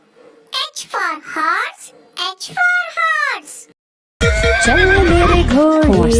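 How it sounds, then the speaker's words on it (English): A horse neighs in loud, whinnying bursts, twice in a row, followed by a child-song section with music; the calls are close and clear. "H for horse, H for horse."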